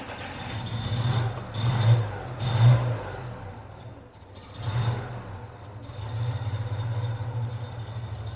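A 1972 Moskvitch IZH 412 car engine cold starts with the choke pulled, then a few rising revs and dips settle into an uneven rumbling idle, heard up close without talk.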